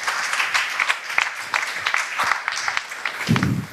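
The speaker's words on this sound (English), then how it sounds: "So give yourself a round of applause" A panel-session audience at a humanitarian foundation event breaks into steady, dense applause, a busy wash of many hands clapping that holds evenly throughout.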